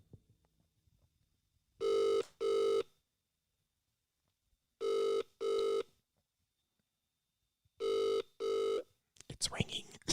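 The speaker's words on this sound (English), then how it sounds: "It's ringing." A phone call rings out on the line with three pairs of double rings, evenly spaced across several seconds. Quiet room noise fills the gaps, and a burst of rustling follows at the end.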